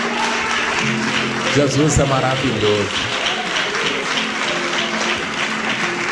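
A church congregation claps during a worship service. The clapping is continuous under a voice that speaks and sings briefly over it.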